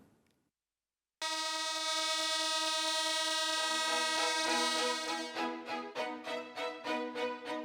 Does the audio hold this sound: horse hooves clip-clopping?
no